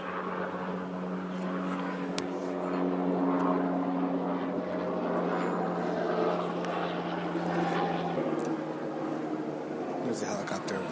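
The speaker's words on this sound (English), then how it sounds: "There's a helicopter over there." A helicopter drones steadily at a distance, a low continuous rotor hum with a faint engine whine, while people talk over it.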